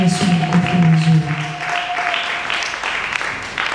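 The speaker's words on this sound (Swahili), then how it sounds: "Yesu makofi mazuri." A church congregation at an evangelistic seminar in Mbezi breaks into broad, steady applause, with a sustained tone and a low voice-like hum audible during the first couple of seconds.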